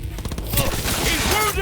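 Rapid bursts of gunfire crackle in a Cyberpunk 2077 boss fight, a dense loud fusillade of overlapping shots and impacts with game effects layered over it.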